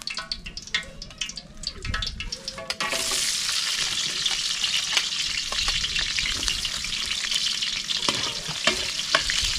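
Onion and garlic sauté in a hot pan, starting with sharp crackles and clatter as they go in, then settling into a loud, steady sizzle with occasional stirring scrapes.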